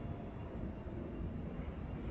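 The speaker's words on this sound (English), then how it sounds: "You hear a big airplane coming down right now." A large airplane descends overhead during live conflict coverage, a steady, broad, low roar that holds at an even level for the whole stretch, with no voices.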